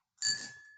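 A single bright ding from a small bell, struck once as a stock buy order fills, with a clear ringing tone that lingers and slowly fades.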